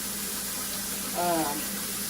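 Tap water runs steadily over uncooked rice being rinsed in a home kitchen, a constant close hiss with a brief faint tonal sound partway through.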